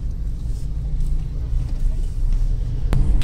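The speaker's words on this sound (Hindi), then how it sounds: "बाकी आप देख सकते हैं कितनी ट्रैफिक है" Vehicle traffic rumbles steadily along a mountain road near Dehradun, a low continuous drone with a sharp knock near the end, no voices.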